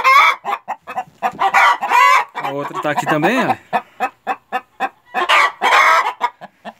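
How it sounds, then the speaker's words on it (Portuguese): Embrapa 051 hens in a henhouse, busy around laying time, cluck and cackle loudly and continuously at close range while a person speaks over them. "hoje eu estou mostrando para vocês aqui a festa aqui no galinheiro que as galinhas fazem"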